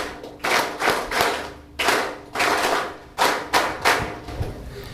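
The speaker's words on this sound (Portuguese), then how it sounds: "Uma forte salva de palmas." Bursts of audience applause at a formal national ceremony, coming in several waves of clapping that rise and fade over a few seconds, fairly close and moderately loud with no talking.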